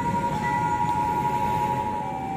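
At a railway level crossing beside a station, the warning bell rings as a steady, continuous electronic tone over faint background hum while a train prepares to depart.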